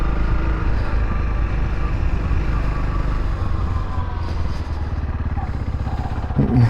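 A 2025 Honda CRF300L dual-sport motorcycle climbs a hill in low gear, its single-cylinder engine droning loud and steady and close by throughout, with a few rattles near the end.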